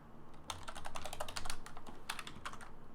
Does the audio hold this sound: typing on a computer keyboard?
yes